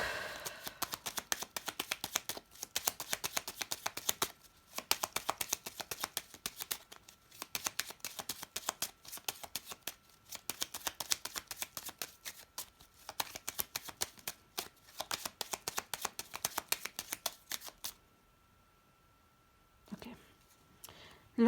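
A deck of Lenormand cards is shuffled by hand for a long stretch, rapid papery riffles and taps in irregular bursts, close and crisp, before stopping abruptly near the end.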